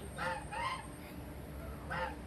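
A goose honks three times, loud nasal calls with a pause before the last, over a steady background hiss.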